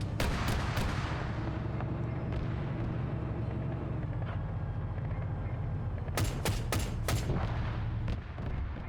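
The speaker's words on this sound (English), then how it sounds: "I just heard a missile go off." A missile launching and exploding in the Arma 3 military video game, with sharp blasts at the start, a steady engine rumble throughout and a quick cluster of loud cracks near the end.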